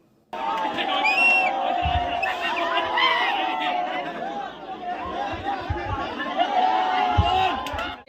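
A crowd of bike riders cheering and whooping at a motorcycle reveal, dense close chatter and shouts sustained for several seconds, with voices overlapping throughout.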